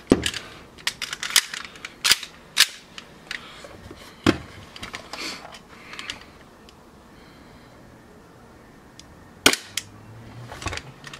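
An EMG Hudson airsoft gas pistol running low on gas fires a series of sharp, irregular cracks, loud and close, with several shots in the first few seconds, a quiet stretch, then a couple more.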